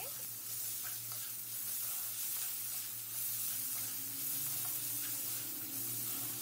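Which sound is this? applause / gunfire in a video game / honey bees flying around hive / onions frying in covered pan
onions frying in covered pan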